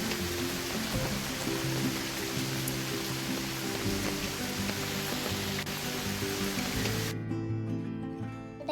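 Monsoon rain falls in Kerala as an even, dense hiss of drops that holds steady and then thins out abruptly near the end, with no voices.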